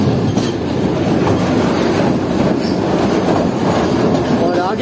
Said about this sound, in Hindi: तो ट्रेन ने छोड़ दिया लाहौर जंक्शन रेलवे स्टेशन को